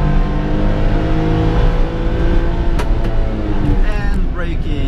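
A 1994 Honda Acty van, the first fuel-injected version, accelerating hard from the driver's seat and shifting into third, its small engine droning loud and steady throughout with a brief shift break near the middle.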